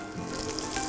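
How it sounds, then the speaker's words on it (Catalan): Pork secreto frying in hot oil gives a soft, steady crackling sizzle, close and alone, over a brief stretch. "I ara ja fiquem així a fregir."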